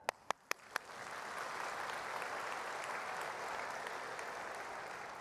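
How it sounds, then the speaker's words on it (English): After a few sharp single claps, an Easter church congregation breaks into sustained clapping, a soft, even wash of many hands heard from across the room. "Let us praise God with our clap"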